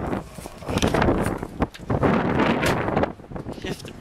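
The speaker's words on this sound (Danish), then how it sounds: "Kæft, det blæser." Strong wind gusts buffet the microphone outdoors in bursts of rumbling roar that rise and fall, with brief lulls between.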